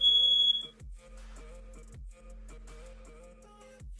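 Home smoke alarm set off by a pot of boiling potatoes left on a stove, starting with a shrill piercing tone and then repeating in a regular electronic cycle roughly once a second, loud and close.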